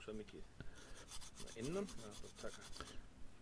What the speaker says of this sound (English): you can use a little piece of wood stick that you've glued some sandpaper to. Just sand it a little bit